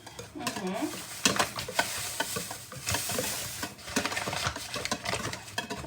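A spoon stirs food in a sizzling frying pan at home, with scraping and occasional clinks against the pan over a steady hiss, and soft voices nearby.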